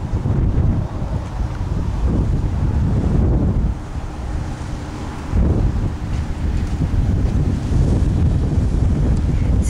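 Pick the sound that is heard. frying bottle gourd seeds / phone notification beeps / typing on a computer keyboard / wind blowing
wind blowing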